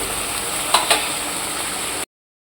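Spice paste sautéing in oil for a katla fish-roe fritter curry, a continuous close sizzle with two brief spoon scrapes, then the sound cuts to silence near the end.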